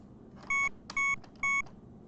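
Three short, bright electronic organ-waveform tones from the PICO-8 sound editor, evenly spaced and steady in pitch with clean harmonics, played alone at moderate loudness.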